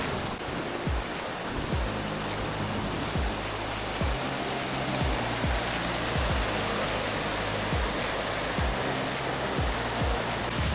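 A waterfall pours with constant, powerful rushing water, a dense loud roar that fills the whole stretch without a break, heard close by on a trekking route.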